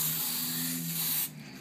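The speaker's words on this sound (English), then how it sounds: "I'm going to use my spray adhesive" Spray adhesive hisses from a can onto a box in one steady burst of about a second, close and loud, then cuts off sharply.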